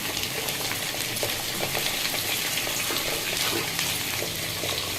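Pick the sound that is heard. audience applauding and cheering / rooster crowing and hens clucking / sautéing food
sautéing food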